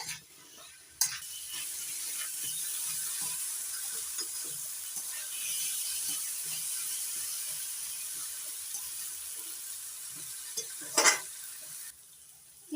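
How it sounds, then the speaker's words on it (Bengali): Ghugni masala with Kashmiri red chili powder sautéing in a pan with no water added, giving a continuous close hiss of frying with faint stirring and a brief louder scrape near the end. "এবার দিয়ে দিচ্ছি এক চামচ কাশ্মীরি লাল লঙ্কার গুঁড়ো এবার জল না দিয়ে ভালো করে কষিয়ে নিতে হবে"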